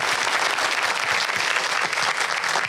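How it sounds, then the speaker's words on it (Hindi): Dense, loud applause from a studio audience at an Eid TV show fills the whole moment, a steady wash of many hands clapping with no pauses. "लाला के लिए जोरदार तालियां बजाइए"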